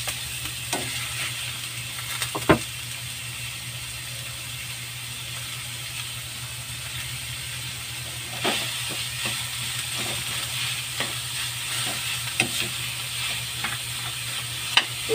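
Ground meat frying in a pan with chili, a steady crackling sizzle throughout, broken by occasional sharp clicks and scrapes of stirring.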